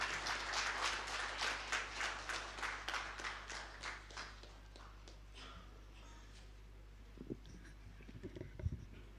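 An audience at a rice summit in Telangana applauds to welcome a government minister, dense steady clapping that fades over several seconds, leaving scattered claps and low rumbles from the hall.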